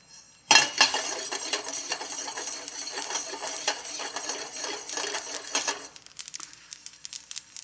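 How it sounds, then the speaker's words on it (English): Rapid crackling and popping of popcorn kernels inside a hot metal pot, dense irregular bursts with clinking as the pot is swirled, thinning out toward the end. "You'll hear the popping as well."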